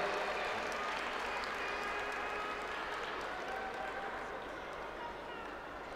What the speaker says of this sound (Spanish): Ese aplauso para Teresa, que se recupera ya.